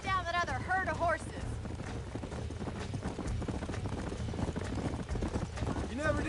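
Horse hooves clip-clop steadily in a Red Dead Redemption game as a rider travels, a quick continuous rhythmic beat with a horse neighing near the start and end, and characters talking over it.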